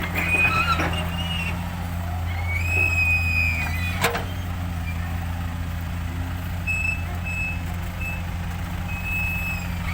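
A Toyota six-wheel truck at a dig site with a backhoe working, its engine droning steadily nearby while intermittent high reversing beeps sound over it and a sharp knock cuts in midway.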